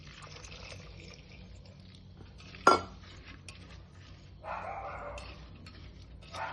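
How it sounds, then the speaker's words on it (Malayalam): Water is poured into a pressure cooker holding potato curry made with meat masala: a sharp metallic clink, then a steady mid-level rushing pour for a couple of seconds near the end, over a quiet kitchen background. "എന്നിട്ട് നമുക്ക് ഇതിലേക്ക് ആവശ്യത്തിനുള്ള വെള്ളം കൂടെ ഒഴിക്കണേ"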